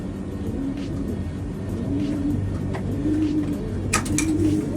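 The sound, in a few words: pigeons cooing in a coop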